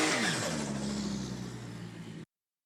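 A VL turbo drag car revs loudly at a drag strip, a strong engine roar that slowly fades over about two seconds before cutting off abruptly.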